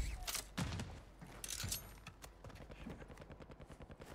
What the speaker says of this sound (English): Oh, they're shooting out there.